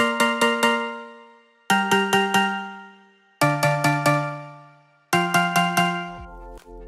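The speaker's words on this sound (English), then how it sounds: "So this is a mallet from the Sphere Echo Soundworks pack" A synth mallet block chord from the Sphere Echo Soundworks pack, EQ'd for a future bass intro, plays as four bright bursts, each of four quick repeated chord hits that ring out and decay, with nothing else in the mix.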